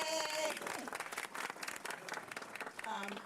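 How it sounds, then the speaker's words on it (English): Applause from a county government audience, a burst of clapping and crowd noise with a voice briefly heard over the start and again near the end. "Let's give our utility providers a round of applause."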